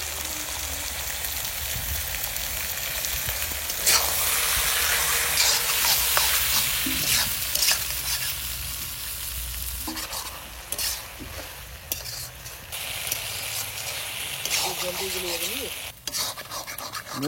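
Country chicken with ginger paste fries in a pan while a utensil stirs it, giving loud, continuous sizzling with repeated close scraping strokes and a few brief clanks, and no voices.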